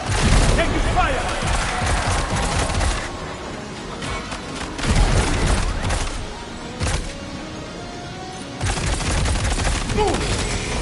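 Gunfire rattles through a battle in Death Stranding 2 in dense overlapping bursts with booming impacts, loud and sustained across the whole stretch, with shouted voices under the noise.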